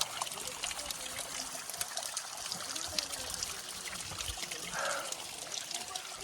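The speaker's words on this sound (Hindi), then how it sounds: "हाँ वाटरफॉल भाई, पानी गिर रहा है तो वाटरफॉल।" A small waterfall spills and trickles on a mountain trek to Churdhar, a steady, close, full splashing flow of water that fills the whole stretch with no break.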